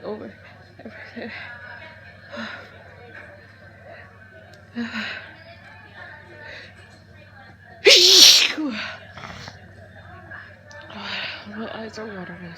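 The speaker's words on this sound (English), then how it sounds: "I'm sneezing over everything." One loud, sharp hay fever sneeze bursts out amid quieter sniffles, breaths and murmured voice, over a steady low hum in a Starbucks café.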